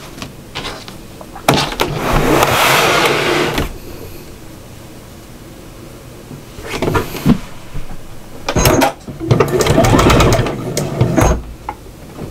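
A sewing machine stitches quilt pieces together in short runs of rapid whirring, stopping and starting several times with quiet handling sounds between the bursts.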